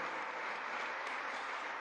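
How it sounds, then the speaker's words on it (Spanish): A church congregation at Santa Ana parish gives applause, a soft, steady wash of many hands clapping at a distance, even in level and continuous throughout. "Un aplauso también a todos los fieles de Santa Ana"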